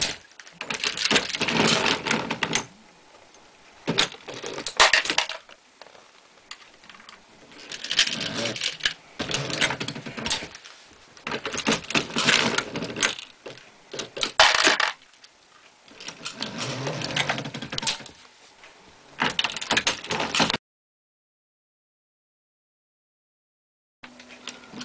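Lee Loadmaster progressive press reloading 9mm ammunition, with repeated mechanical clanks, clicks and ratcheting strokes in irregular bursts separated by short pauses, close and fairly loud, ending in silence.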